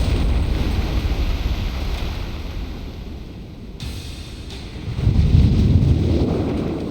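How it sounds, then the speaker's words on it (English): A loud, rumbling blast effect in a science-fiction audio drama set in Antarctica, a terrific explosion about 100 meters away, with a deep roar that dips midway and then swells again in a powerful low-end surge. "A terrific explosion 100 meters away."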